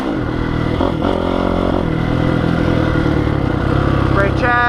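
A Honda CRF450R dirt bike runs along trails, its engine droning loud and close with steady revving and rising pitch toward the end, plus some mechanical clatter.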